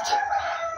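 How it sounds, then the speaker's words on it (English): A rooster on a small backyard chicken farm crows once, a short, fairly faint cock-a-doodle-doo heard alone without talk. "rooster"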